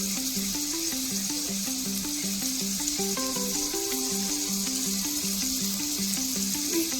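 Turmeric going into a hot pan for chilapi fish curry, a steady close sizzle of frying oil with a rhythmic pulsing hum underneath throughout, no talking.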